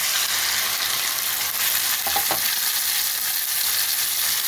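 A paste of thankuni leaves, ginger and green chili hitting a hot pan gives a loud, steady hiss of frying that fills the whole stretch, with a brief clink partway through.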